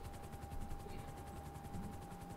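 A helicopter in the video game GTA V Online, a rapid pulsing rotor chop with a steady engine whine, moderately close and fairly quiet.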